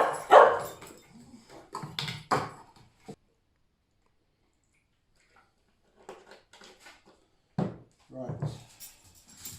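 Several dogs at a French château bark and yip in short bursts at bedtime treat time, with loud close barks early and again later, separated by a quiet gap.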